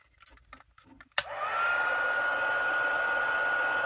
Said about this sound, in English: I'll turn our heat gun on here.